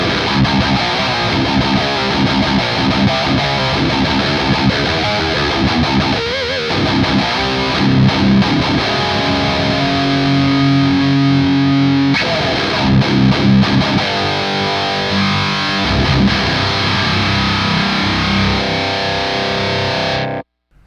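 Distorted electric guitar driven through a Plumes overdrive pedal into a tube amp, played as loud chugging high-gain riffs with sustained chords for about twenty seconds, alone and without talk, before cutting off abruptly.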